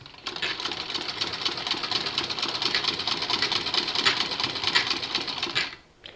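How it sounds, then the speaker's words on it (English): A hand crank turning a Singer treadle-type sewing machine whirs and clatters steadily and fairly loud for about six seconds, a close, even mechanical rattle that stops abruptly near the end. "my hand crank makes a little noise, but you turn the crank backwards and the wheel will go forward."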